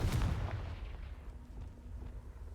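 A single heavy explosion from the Confringo blasting spell in Hogwarts Legacy bursts loudly at the start, then fades into a low rumbling decay.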